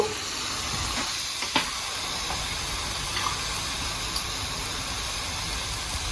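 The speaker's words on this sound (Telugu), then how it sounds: "సన్నగా కట్ చేసిన దొండకాయలు వేసుకుని బాగా మిక్స్ చేసుకోవాలి." Thin slices of ivy gourd fry in a pan while being stirred, giving a steady close sizzling hiss broken by occasional light scrapes and clinks of the spoon.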